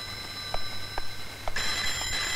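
An old-style telephone rings at a police station in a steady repeating pattern of short bursts over a constant electrical hum, with no talk.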